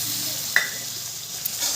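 Spice paste with ground tomato frying in a pan for Bengali dhokar dalna gives off a steady soft sizzle, with a brief spoon scrape near the start and a faint tap later.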